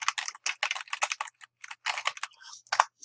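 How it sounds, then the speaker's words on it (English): Rapid, close clatter of keys being typed on a computer keyboard, irregular bursts with short pauses between words. "Let's just type sightseeing and under construction."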